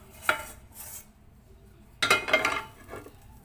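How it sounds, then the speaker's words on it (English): A kitchen knife cuts through a homemade pizza, producing a few scraping and clinking strikes against a pan or plate in two short bursts separated by quiet. "I don't have a pizza cutter, guys, so I'm just using this knife."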